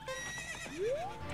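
A horse whinnies in The Legend of Zelda: Ocarina of Time, a clear game sound effect with a shrill neigh followed by a rising squeal, loud and close over a steady background, and no voices.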